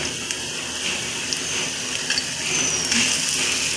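Two chopped onions frying in a pan with chillies for a bitter gourd gojju give off a steady, loud, hissing sizzle from start to finish, with no talking.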